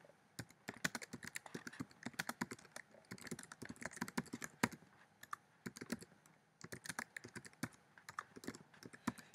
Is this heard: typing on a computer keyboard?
yes